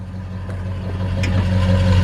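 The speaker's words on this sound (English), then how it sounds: "So let me let you hear the engine run" A 1946 Ford truck engine with a 2-into-1 exhaust idles steadily, a low rumbling hum with a faint buildup in loudness, heard close and alone.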